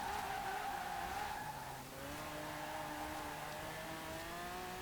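A Mercedes-AMG GT 4-Door Coupé fitted with a V12 engine in Forza Horizon 4 drives at steady high revs, tires squealing continuously as it slides, with a brief gear change in the middle.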